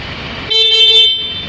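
A single short, bright Honda Click 125 motorcycle horn beep lasting under a second, close and fairly loud over a steady low background rumble.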